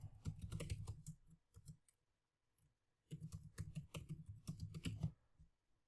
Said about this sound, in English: So I'll type now